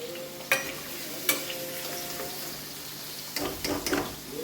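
Fried pumpkin pieces are stirred and lifted out of hot oil. The oil sizzles continuously while a few sharp scrapes and clinks of a spoon or slotted ladle ring against the pan, busier near the end.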